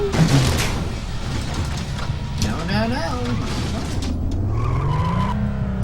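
A motorcycle crash in the Road Rash 64 racing game, with tires skidding and screeching hard, then an engine whine climbing in pitch, loud and close, with a voice speaking briefly over it.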